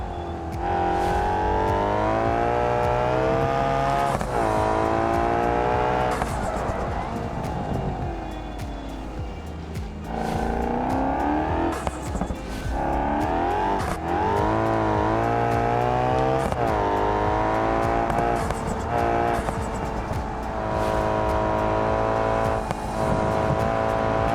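Engine of a car in the BeamNG driving game roars steadily as it drives and corners, pitch rising and falling with gear changes and revs, loud and close throughout with no talk.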